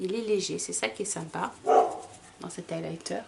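Someone talks while a dog barks a few times nearby, short sharp yaps breaking through her speech.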